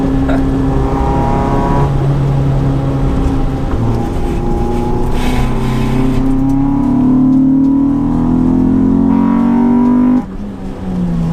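A modified Honda car drives through hairpin turns, its engine loud and close from inside the cabin, rising and falling in pitch as it revs through the bends, then dropping abruptly near the end.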